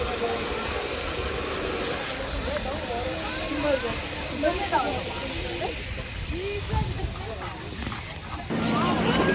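A continuous loud hiss of an air pump inflating a children's swim tube at a beach rest area, steady throughout with voices talking over it.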